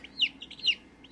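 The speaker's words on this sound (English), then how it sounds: "This is a Wyandotte." A baby Wyandotte chick gives two short, high chirps about half a second apart, close and fairly soft, over a quiet background.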